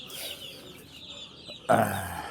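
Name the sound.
pullet chickens clucking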